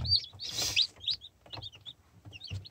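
Newly hatched Yeonsan Ogye chicks chirp in repeated high, thin peeps, several overlapping calls close by in quick irregular bursts with soft low rustling beneath.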